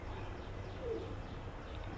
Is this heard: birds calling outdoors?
yes